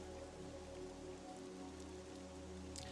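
Steady rain ambience from the video game Monsters & Memories, a constant even hiss of rainfall on surfaces with no voices, holding at a soft level throughout.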